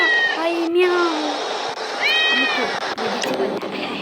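A cat meows loudly a few times nearby, with a person speaking over and between the meows.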